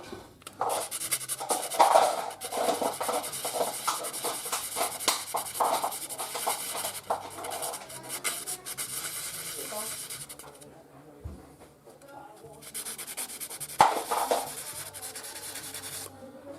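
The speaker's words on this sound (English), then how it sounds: "We'll take and hit it with a little bit of sandpaper." Sandpaper rubbing on a part of an 1851 Navy single action revolver, a continuous close scratchy rasp with a short pause partway, under a little speech.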